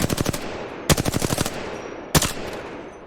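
Bursts from an R-301 rifle firing at targets in Apex Legends, three quick rapid-fire bursts of sharp cracking shots, each burst a tight rhythmic string, loud and close with no talking.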